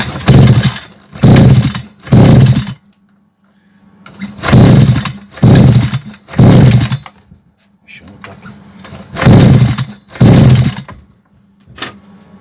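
A Treszer TVR8 petrol brush cutter under warranty repair is pull-started repeatedly, its engine catching in several loud, rough bursts of sputtering and revving separated by short pauses.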